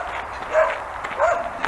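Two short barks from a dog some distance away, spaced about half a second apart over a steady background hum.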